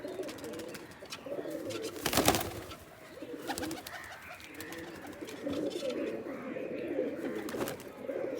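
Giribaz pigeons coo together in a loft, a continuous murmur of overlapping low coos at moderate level, with a brief louder flutter or rustle near the start and no speech.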